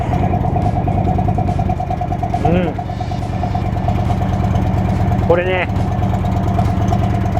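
An air-cooled 1890cc Indian Chief Thunderstroke V-twin motorcycle idles with a steady, loud low throb throughout, while someone speaks briefly over the engine.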